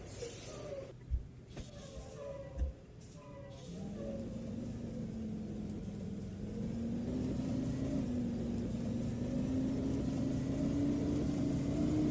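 Blue Bird Vision school bus from 2014 in a video game, with a steady engine drone rising in pitch from about four seconds on, after a few brief thumps and hissing bursts that fit brake releases.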